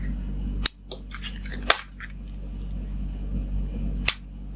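A few sharp, isolated snips as scissors cut off threads while a pouch is being sewn, close and crisp, separated by quiet pauses with light handling noise between them.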